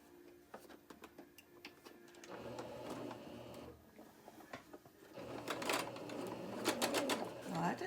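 A sewing machine stitches fabric and batting for a crazy quilt pincushion with a rapid mechanical ticking and whirring that runs in bursts and grows busier and louder toward the end, while a person talks over it.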